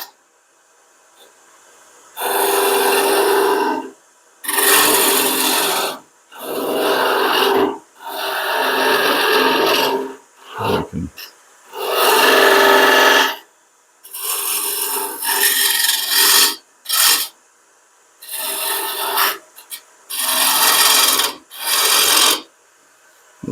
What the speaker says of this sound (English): we'll take a regular gouge